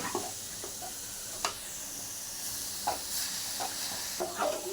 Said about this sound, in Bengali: এবার এই গরম ঘিয়ের সঙ্গে এটা একটু ভেজে নেব, লাল লাল একটু ভেজে নেব